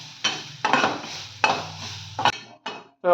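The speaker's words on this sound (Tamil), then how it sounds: "இப்போ தேங்காய் துருவல் அது ஒரு 2 நிமிஷம் அது கலர் மாற வரைக்கும் அதையும் நம்ம ட்ரை ரோஸ்ட் பண்ணுறோம்" Grated coconut dry roasting in a pan for a South Indian spicy prawn masala, heard as repeated metal spatula scrapes and clinks against the pan in several short bursts, close and fairly loud, with no talk.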